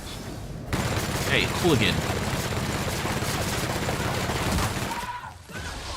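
A robot shooting in the sci-fi game The Outer Worlds: a steady rattle of rapid gunfire fills most of the stretch, with a voice briefly speaking over it near the start.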